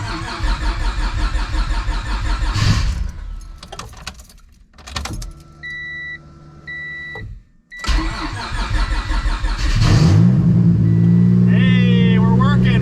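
A nitrous-fed stroker V6 swapped into a Honda Civic cranks with a starter whir, stumbles briefly, then catches and settles into a loud, rough idle close to the microphone. Voices are heard near the start.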